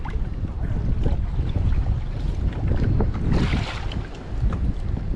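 Paddles splash and knock irregularly as a canoe moves through lagoon water in the Maldives, with steady wind buffeting the microphone throughout.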